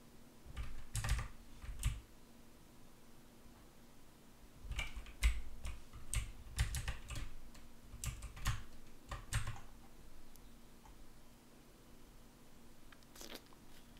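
A computer mouse clicked during PC gaming, quiet sharp clicks in rapid clusters separated by short pauses, close up and alone without speech.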